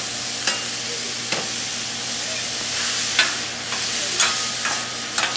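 Potatoes fry steadily in a pan with a constant broad sizzle, punctuated by a few sharp clicks and scrapes from stirring or turning, close and moderately loud with no talking.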